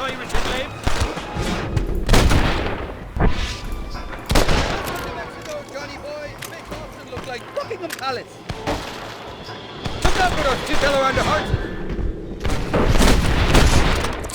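A Springfield-type semi-sniper rifle fires repeatedly in Red Dead Redemption 1 on PC, with loud, separate cracks scattered across the stretch and someone talking between and over the shots.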